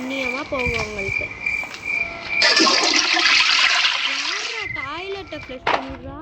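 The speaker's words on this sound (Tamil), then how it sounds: "டாய்லெட்டை ஃப்ளஷ் பண்ணிடுறா." A toilet flushes in the video game Granny, a loud rushing, splashing surge of water lasting a couple of seconds, set among chirping cricket-like ambience and heard alongside a person's voice.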